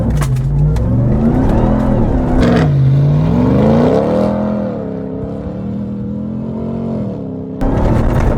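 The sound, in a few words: 2021 RAM TRX truck accelerating hard in Baja mode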